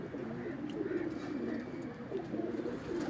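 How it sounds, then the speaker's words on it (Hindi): Pet pigeons cooing nearby in a rooftop loft, soft repeated throaty coos in an uneven rhythm over faint background noise. "ये हैं कबूतर जी"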